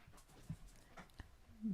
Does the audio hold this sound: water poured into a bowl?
no